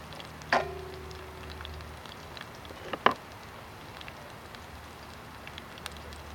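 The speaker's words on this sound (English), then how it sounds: "Saute that around, let that stir up a little bit." Food sautéed and stirred in a pan on a Stoveaway stove outdoors gives a steady, low crackling sizzle, broken by two sharp utensil clanks near the start and the middle.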